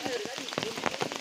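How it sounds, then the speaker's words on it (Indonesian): Steady, close rain patters on the surface along the Mount Ciremai hiking trail in West Java, near trail post 3 where hikers take shelter, falling as a dense run of drops. "Terlalu lama karena hujan, jadi kita berteduh"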